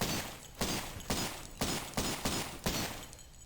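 Pistol fire in the Cultic shooter game, seven distinct sharp shots spaced about half a second apart, each with a short decaying tail, moderately loud with no talk.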